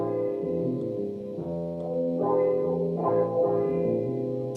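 A sustained chordal hip-hop music sample with stereo spread, drenched in reverb and echo, the sound washing and lingering with a smooth, spacious tail.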